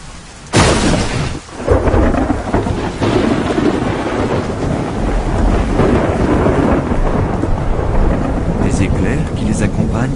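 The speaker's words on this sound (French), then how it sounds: "des centaines d'orages éclatent quelque part autour du monde" Heavy thunderstorm with loud rolling thunder and steady rain, a sharp crack early on followed by continuous rumbling and rainfall throughout.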